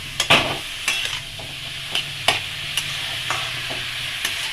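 Bay leaves dropped into hot oil in a pan, with a soft continuous sizzle under a string of sharp spatula scrapes and taps spaced irregularly, fairly close and moderately quiet.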